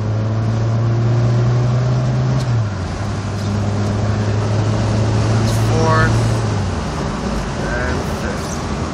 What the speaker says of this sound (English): Shifts through all the gears smooth, no crunching.